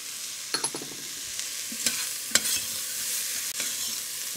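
Minced ginger and garlic frying in a pan for an oxtail stew, a steady close sizzle with several sharp spoon taps and scrapes as it is stirred, no voices.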